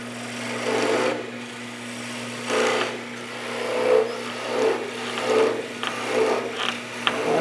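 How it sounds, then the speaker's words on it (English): A spindle gouge cuts a spinning wood workpiece on a lathe, giving a steady scraping rasp over a constant motor hum, with repeated swelling cuts as the tool is worked slowly; no voices. "I'm just slowly working the wood away."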